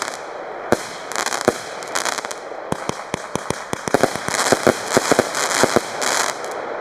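Multicolor crackling fireworks from 20 mm shells burst in a rapid, irregular string of sharp pops and crackles, growing denser toward the end against a quiet background.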